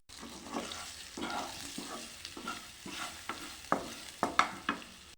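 Biryani spiced with biryani masala and chilli powder, with fried potatoes, onions and eggs, frying and being stirred in a pot: steady close sizzle broken by repeated scraping stir strokes that grow sharper and louder toward the end.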